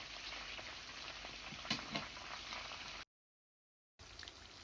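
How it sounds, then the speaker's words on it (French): Chicken pieces frying in oil in a pan, a soft, steady crackle and sizzle heard faintly, with a brief dropout of silence partway through. "Pendant que vous êtes en train de frire votre poulet, il est important de ne pas s'en éloigner"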